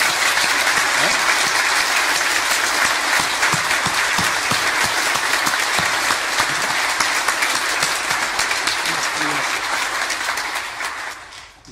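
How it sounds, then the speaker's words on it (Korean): A church congregation claps warmly at an elder ordination service: loud, continuous, full-room applause that holds steady for several seconds, then tapers off and stops abruptly. "우리 함께 손바닥 터지지 않을 만큼 박수 한번 합시다"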